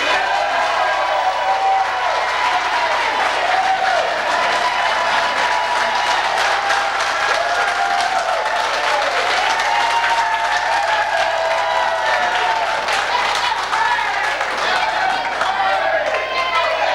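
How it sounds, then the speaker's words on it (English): Sustained applause and clapping from an audience at a 1996 election campaign event in Burgeo, steady and dense throughout, with some crowd murmur mixed in. "I want a big round of applause for Len and Jesse Matthews"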